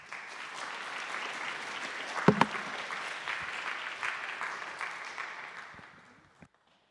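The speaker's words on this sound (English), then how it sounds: "I guess one more round of applause." Sustained audience applause after a talk at a student AI tournament event, a dense even wash of many hands lasting several seconds before tapering off.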